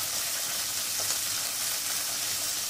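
Peas and carrots fry in a pan with a steady, dense hiss of sizzling oil, close and fairly quiet, unchanging throughout with no talk.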